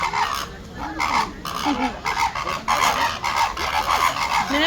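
Flamingos calling at Auckland Zoo, a series of nasal, goose-like honks repeating in uneven bursts at close range over steady background noise.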